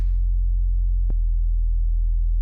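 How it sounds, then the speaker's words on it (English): A deep, sustained bass tone run through a saturator distortion effect in Ableton drones steadily and loudly, with a short click partway through and a faint brighter buzz at the very start. "I'm gonna take a saturator for this one."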